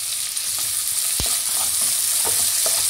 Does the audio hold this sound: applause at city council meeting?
no